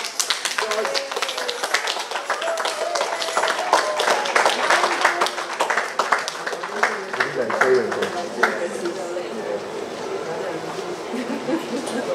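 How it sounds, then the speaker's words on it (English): Audience clapping outdoors at a Soroptimist International autism-awareness light-up event in San Fernando: a brisk patter of many hands for several seconds, thinning out, with people talking throughout. "Clap."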